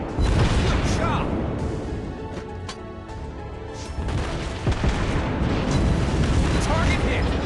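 Dense, booming shell hits and explosions from World of Warships Blitz naval combat rumble continuously at high volume, with voice lines and game announcements heard over the din.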